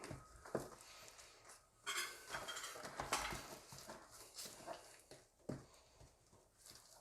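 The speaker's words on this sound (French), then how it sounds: "Donc démonstration du fouet." Wire whisk beating in a mixing bowl, with irregular clinks and scraping strokes at close range, quiet and uneven, against faint kitchen background noise.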